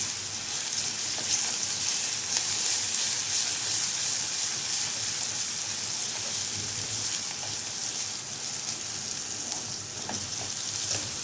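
A garlic clove frying with lightly browned, softened onion in a pan, giving a steady, close, crackling sizzle with faint stirring and no talk.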